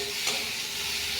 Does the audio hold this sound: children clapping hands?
no